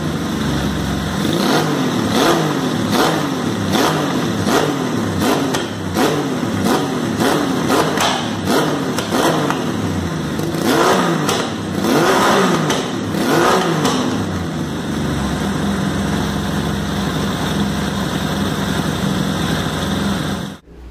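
A three-cylinder motorcycle engine built from a Honda CG Fan engine runs close and loud, revving repeatedly in uneven bursts before settling into a steadier idle and cutting off at the end.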